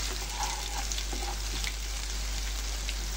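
Onions frying in a pan for a potato curry, a steady close-up sizzle with occasional soft stirring clicks.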